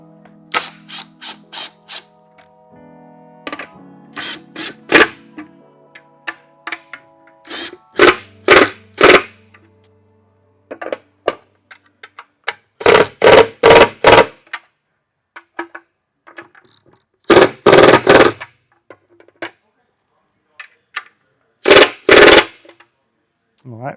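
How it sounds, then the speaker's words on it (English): Bolts tightened with a 10 mm socket and wrench while assembling a Hurricane 200 Pro: close bursts of rapid ratchet clicking separated by short pauses, with a faint hum and some murmured sound early on. "you're gonna grab a 10 mil socket and a 10 mil wrench and start"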